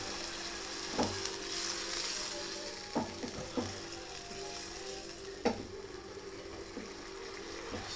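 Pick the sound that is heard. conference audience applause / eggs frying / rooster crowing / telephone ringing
eggs frying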